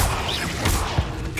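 Incendio fire spell cast in Hogwarts Legacy, a loud dense whooshing, crackling burst of magical flame with mechanical rattling texture, filling the whole moment without talk.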